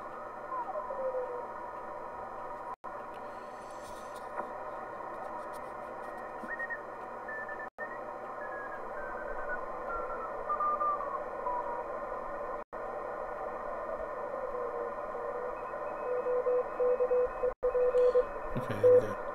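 Two radio stations send Morse code, heard as thin tones that beep and shift against a steady hiss and hum of radio noise, with brief dropouts and no talking.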